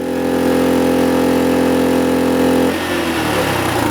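A small VOIN gasoline generator runs steadily under a heavy electrical load, its loud, even engine drone holding for a few seconds before it abruptly cuts out as the overload protection trips, leaving a rougher, fading rumble.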